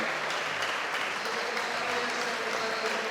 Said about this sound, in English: a standing ovation here from the crowd at Grand Central Station for a quality 79-minute match